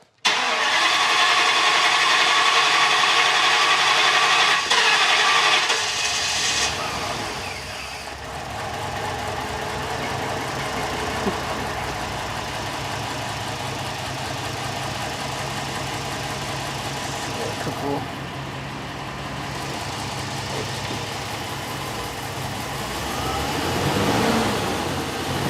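A U-Haul truck with a new engine, fresh fuel injectors and coil packs, cranks loudly for several seconds, catches, then settles into a steady mid-pitched idle that runs on with slight surges, close and continuous.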